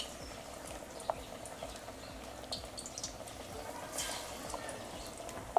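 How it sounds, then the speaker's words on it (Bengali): Pumpkin-pulp fritters sizzle softly in hot oil in a kadai, giving a faint, steady hiss with a few small pops and crackles scattered through it. "এবার এভাবে হাতের মধ্যে নিয়ে তেলের মধ্যে অল্প অল্প করে দিয়ে বড়াগুলো সুন্দর করে ভেজে নেব।"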